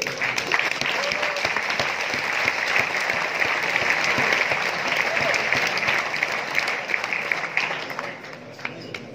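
Hearty crowd applause at the START Hack 2019 hackathon for two people, a thick continuous clatter of many hands that holds steady, then eases slightly near the end.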